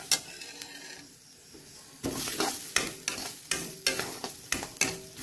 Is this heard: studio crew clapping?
no